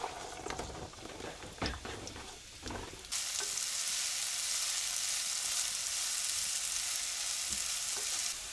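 Chopped onions and carrots drop into a hot pan and a loud steady sizzle erupts, frying continuously after a few clattering, stirring sounds, in a log cabin.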